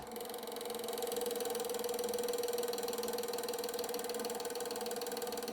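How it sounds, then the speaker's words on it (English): A Draksler string pulse motor spins steadily, giving a continuous fine ratcheting whir with a sustained tone, faint and even throughout, with no voices. "And the motor is running."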